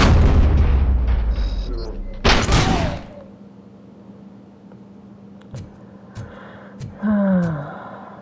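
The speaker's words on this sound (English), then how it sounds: "I'm gonna shoot any explosives" Explosives being shot in Robocop: Rogue City set off loud booming blasts, a dense burst at the start and another sharp explosion near the middle, followed by quieter scattered hits, with someone talking at times.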